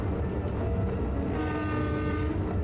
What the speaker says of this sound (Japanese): 警笛が鳴ると